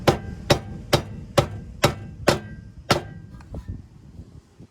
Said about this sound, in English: I use the rubber side just so I can knock it through